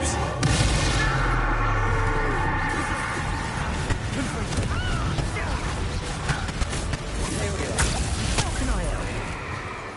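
Confringo blasting spell bursts in Hogwarts Legacy hard-mode combat, loud booming explosions erupting repeatedly over dense battle noise, with a voice shouting spell names throughout.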